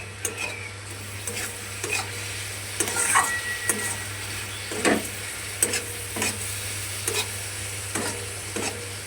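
Semai vermicelli stirred with milk in a pan over a low gas flame, giving a soft, steady sizzle with repeated scraping strokes of a spoon at an even rhythm, close and moderately quiet with a constant low hum beneath.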